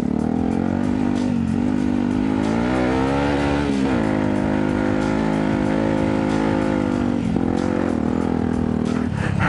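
A supermoto motorcycle engine on a hill climb course revs loud and close, its pitch rising and falling through repeated throttle blips and gear changes in a continuous, buzzing roar.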